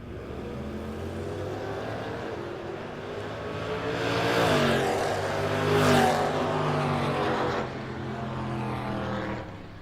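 A 1967 Dodge Dart launches hard at a no-box drag race, its engine roaring loud and close, then swelling as it pulls down the track before fading slightly toward the end.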